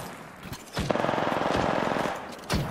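Sustained automatic gunfire in the battle game Apex Legends, a rapid close burst lasting over a second, framed by single sharper shots before and after.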